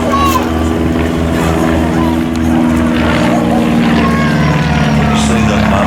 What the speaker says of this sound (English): This particular aircraft is actually the oldest SF-260 still flying